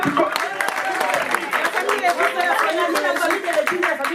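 A crowd claps and cheers at a church celebration of Pastor Placide de Jesus's 50th birthday, with dense, steady applause mixed with excited shouts and chatter for about four seconds.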